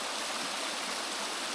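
A burn running high beside a campsite gives a steady, continuous rush of flowing water, close and even throughout, with no voices.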